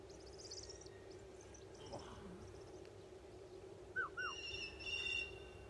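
A very young owlet, about six weeks old, gives a couple of short rising calls over a steady background hum, with faint distant chirps and a low sound earlier.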